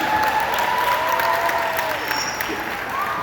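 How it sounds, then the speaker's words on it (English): Applause from a crowd at a wedding reception following a speech, a dense steady wash of clapping throughout with some voices and cheering mixed in. "Give a round of applause for that speech."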